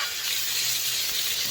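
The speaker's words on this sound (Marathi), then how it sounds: "साईडला थोडंसं आपल्याला तेल टाकायचं आहे आणि लगेच त्याच्यामध्ये थोडीशी मोहरी टाकायची, जिरे टाकायचे आहेत आणि एक टोमॅटो पण टाकायचा" Mustard seeds, cumin and tomato tempering in hot oil on a wood-fired clay stove, giving a steady, close broadband sizzle with faint low crackle underneath, continuous and alone without any talking.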